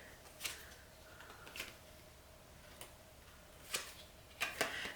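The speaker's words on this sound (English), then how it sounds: "I'm just gonna shuffle the cards and see what comes out." Tarot cards are shuffled softly during a quiet, close ASMR card reading, with intermittent light riffles and taps spread unevenly.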